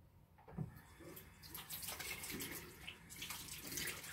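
Hands being washed with foaming soap under a running tap, a steady splash and hiss of water with brief louder bursts, close and clear with no talking.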